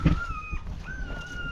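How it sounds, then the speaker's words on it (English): Dog whimpering with high thin whines that rise and fall, two drawn-out cries over faint background noise, fairly close. "Hey, that is the dog."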